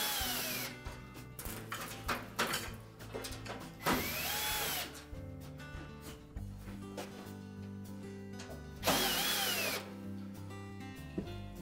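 Power screwdriver backing out No. 2 Phillips or square-head screws from the lower housing of a KitchenAid wall oven, a few short whirring bursts with gaps between them, fairly close, no talk.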